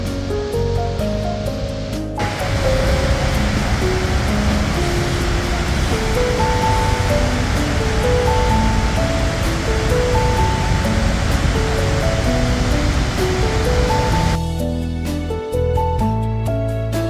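Svartifoss waterfall in Iceland, set among dark hexagonal basalt columns, gives a steady dense roar of falling water that fills most of the stretch alone, with background music before and after it.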